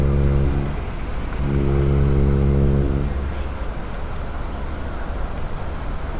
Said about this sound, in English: Yep, definitely heard some more honks there.